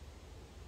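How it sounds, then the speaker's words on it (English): Steady hiss of white noise from a paranormal investigation device, an even, continuous wash filling the short moment with no voices. "You've just put white noise on."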